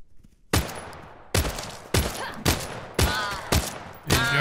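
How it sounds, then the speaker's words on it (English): Pistol shots ring out in The Front survival game, about seven sharp, loud reports spaced roughly half a second apart after a quiet start, each with a short decaying tail. "I'm going to use the pistol a little bit."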